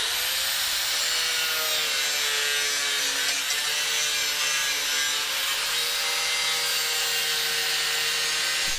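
A replacement shaft for a hay mower being cut to length with a saw, a steady, continuous rasping stroke that holds evenly for the whole stretch, close up, with no talking.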